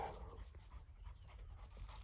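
Hunting dogs pant steadily during a grey partridge search in dry, sheltered cover, heard faint and breathy against outdoor background noise.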